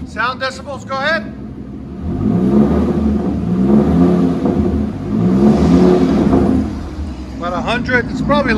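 A 2010 Ford F-250 with a 6.8L V10 and dual straight-pipe exhaust rumbles loudly and steadily at close range, swelling through two long revs, with people talking briefly at the start and end.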